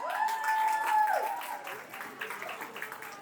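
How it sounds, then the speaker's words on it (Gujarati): Applause from a crowd at a prize distribution, fairly loud at first and then thinning into scattered clapping, with a sustained tone ringing over the start. "જોરદાર તાળીઓ થઈ જાય."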